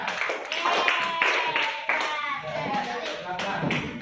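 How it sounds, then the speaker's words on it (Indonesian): Classmates clap together in a classroom for a fellow student after a presentation, a short burst of brisk, fairly close applause with a teacher's voice and pupils talking over it. "tepuk tangan dong buat teman kita."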